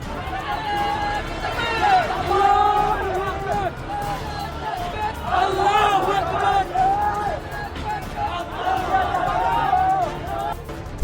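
A large crowd shouting slogans outside a newspaper office in Dhaka: surging waves of massed voices and chants, rising and falling in loud bursts, with a reporter's voice speaking over the din.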